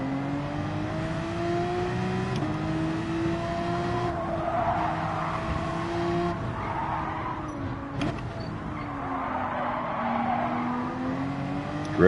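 Tires skid and squeal as a Porsche 911 drifts in Gran Turismo 7, the engine droning and shifting pitch under long, wavering screeches, close and continuous throughout.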